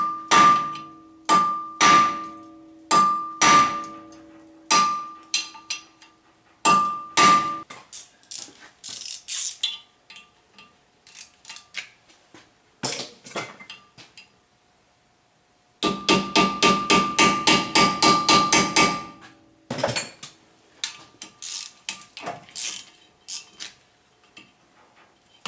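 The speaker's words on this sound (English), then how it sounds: "I always like to tap on it to shock it a little bit" A hammer strikes the rotor retaining bolt on a Chevrolet Malibu wheel hub in sharp metallic taps, first in spaced bursts and then in a fast rapid series, loud and close with quiet gaps between groups.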